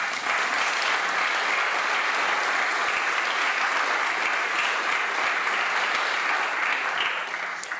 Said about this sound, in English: I think you all and all members of the Greek UEF deserve a special applause.